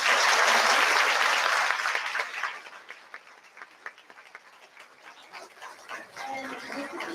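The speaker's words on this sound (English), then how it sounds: "We can give them a big round of applause." A crowd at a fifth grade awards ceremony applauds students with academic honors, loud clapping that thins out after two seconds into scattered claps, then a brief swell of room noise and voices.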